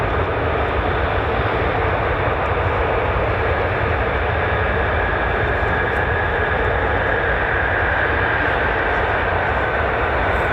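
F-35 fighter jets fly overhead at an air base, a loud continuous broadband roar of jet engines that holds steady and dense throughout, with no voices.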